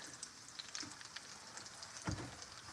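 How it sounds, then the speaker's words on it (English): Chicken thighs frying in a pan on medium heat give a faint, steady crackling sizzle with small pops throughout and no talking. "When you hear it sizzling kind of like that, you know it's cooking."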